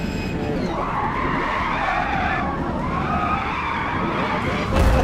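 A race car in Forza Motorsport skids in a long, loud, continuous tire screech layered over the engine roar, building toward the end.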